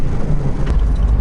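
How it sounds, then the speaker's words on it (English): A 4WD vehicle's engine roars at full throttle as it pulls through deep mud on a crust in Cape York, a steady, loud low-end drone throughout. "I'm almost at full throttle trying to pull through that"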